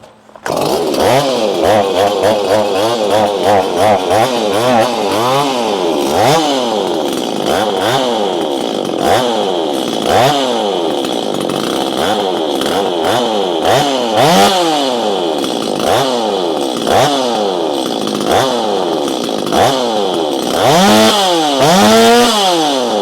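A Stihl 025 MS250 clamshell chainsaw with port work runs loud and close, its two-stroke engine repeatedly revving up and dropping back in rising and falling sweeps, with a rough idle between blips.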